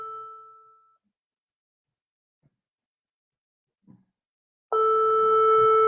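A phone call attempt gives one tone that fades out, then a long silence broken by a couple of faint clicks, then a loud, steady electronic ring tone that starts suddenly near the end.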